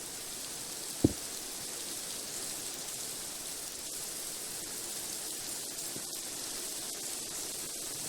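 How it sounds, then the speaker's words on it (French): Steady light rain hisses evenly through a Minecraft game scene, with a single brief knock near the start and no voices over it. "il pleut."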